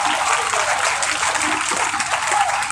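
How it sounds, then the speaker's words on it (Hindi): A school audience applauding loudly at an event, a dense sustained roar of many hands clapping at once that continues without a break. "तालियां बजाओ अच्छे से, आप लोगों का स्कूल है।"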